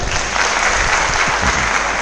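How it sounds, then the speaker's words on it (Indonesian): An indoor audience at a public speaking talk applauds steadily, a dense sustained clapping from a room full of people that holds at full strength throughout. "oke, tepuk tangan untuk Emal."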